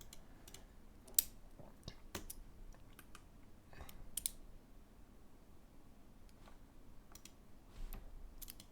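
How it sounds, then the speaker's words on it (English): Fast typing on a computer keyboard, with quick, uneven bursts of light key clicks and a few sharper taps, close up and fairly quiet against a low background hum, with no talk. "He's typing fast, it's great"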